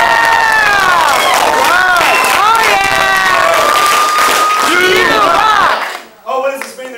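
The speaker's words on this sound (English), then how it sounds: "Give him a big round of applause!" A loud crowd of families at a martial arts belt ceremony in Mount Dora, Florida applauds, cheers and whoops for a newly promoted brown belt, with high shouts over dense clapping that cuts off abruptly near the end.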